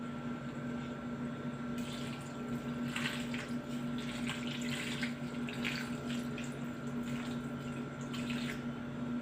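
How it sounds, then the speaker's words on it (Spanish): Water pouring steadily into a cooking pot for tamarind syrup, a soft continuous splashing stream over a steady low hum, fairly faint and with no speech. "Ahora le voy a echar agua"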